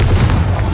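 Confringo blasting spell detonating in Hogwarts Legacy, a single loud, close fiery boom with heavy low rumble that stays dense and sustained through the whole short burst.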